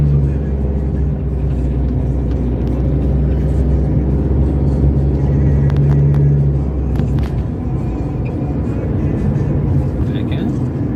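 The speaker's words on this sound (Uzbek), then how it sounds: "Probka ham bo'lib qopti." Vehicles idle in a traffic jam near a fuel station, forming a steady low rumble that fills the whole stretch, with some higher whirring and a faint voice in the background.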